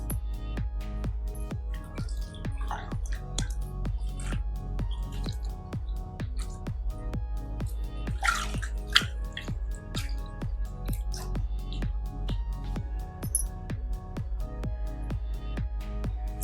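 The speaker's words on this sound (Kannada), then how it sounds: "ಇವಾಗ ಮತ್ತೆ ಕಾಲು ನಾವು ಚೆನ್ನಾಗಿ ವಾಶ್ ಮಾಡ್ಕೊಳ್ಳೋಣ." Water dripping and splashing steadily while feet are washed during an at-home pedicure, a rapid, regular patter of close drips with a few louder splashes and small squishes, no talking.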